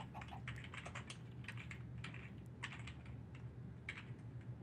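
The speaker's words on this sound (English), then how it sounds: "you can hear me typing" Someone types on a computer keyboard in quick, irregular bursts of clicks that sound nearby and moderately loud. A low steady background hum continues throughout.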